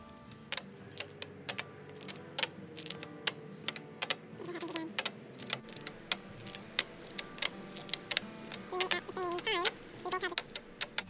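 Domino tiles being drawn from a face-down pile on a table outdoors, a busy run of sharp clacks and clicks, some in quick clusters, close up over faint background murmur.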